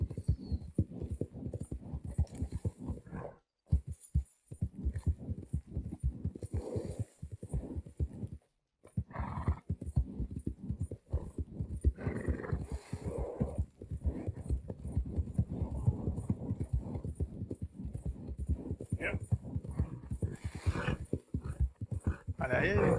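Horse hooves gallop in Red Dead Redemption 2, a fast, steady, continuous clip-clop rhythm with two brief dropouts, near and prominent.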